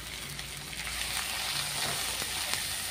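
Tomato sizzles in hot oil with ginger-garlic paste, a steady, quiet frying hiss with small pops throughout and no talking.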